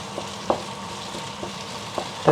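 Chopped tomato stirs into frying onion with ginger-garlic paste in a pan, giving a soft steady sizzle broken by a few light scrapes and clacks of a spoon, close and quiet.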